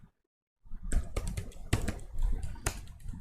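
A name is typed into an online admission form on a computer keyboard, heard as a quick, close run of key clacks and taps after a short silence, with no voice over it.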